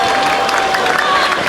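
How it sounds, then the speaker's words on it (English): Warm applause from the stadium crowd at an India versus Pakistan field hockey match in 2003 for a player hurt in the knee, a dense, steady wash of clapping with a commentator's voice over it. "He's getting warm applause from the crowd."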